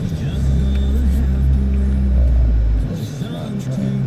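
Downtown street traffic rumbles heavily around a car, a loud continuous low engine and road drone that drops away near the end, with a speaking voice over it.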